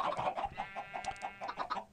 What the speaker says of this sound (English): Oh, this chicken's pretty noisy.